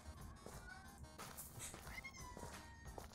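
A cat meows in the Minecraft video game, a few short game-style meows set over busy game sound and background music.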